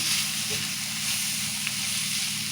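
Onions and tomatoes frying in a pan with turmeric and coriander, a steady close sizzle and hiss with faint stirring scrapes, continuous throughout and without speech.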